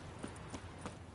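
Horse hooves clip-clop at a steady walking pace in The Witcher 3, soft thuds over a loud, constant game ambience.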